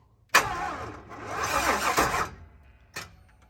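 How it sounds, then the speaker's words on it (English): A truck engine on 44-inch Boggers cranks and catches briefly after spark plugs are reconnected, a sudden loud burst swelling into rough revving for about two seconds, then fading, with one more short cough near the end. "So we hooked all the spark plugs back up. Give her some gas"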